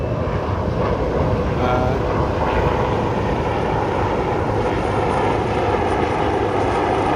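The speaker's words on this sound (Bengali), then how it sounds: "আবার দেখুন এদিক দিয়ে একটি হেলিকপ্টার উড়ে চলছে" A helicopter flying over Cox's Bazar beach, a loud, steady engine and rotor roar that fills the whole stretch without fading, no talk over it.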